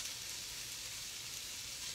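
Shrimp sautéing in a pan for shrimp pomodoro, a steady, even sizzle that holds at a constant level throughout with no talking.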